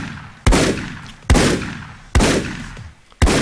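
Four loud, sharp gunshots, evenly spaced and each trailing into a short decaying roar, as the player blasts a boss in the underwater shooter Paranautical Activity; no talking.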